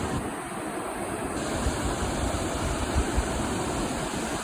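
A wide, fast-flowing river, the Middle South Fork, heard from its bank as a steady, dense rushing roar without pause and no voices.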